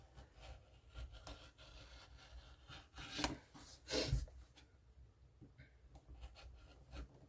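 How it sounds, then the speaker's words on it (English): Quiet, close scissors trimming fabric around the edge of a hot pad, a few soft rasping snips and rubs with two louder cuts near the middle. "Just follow the edge of my hot pad and just trim that down."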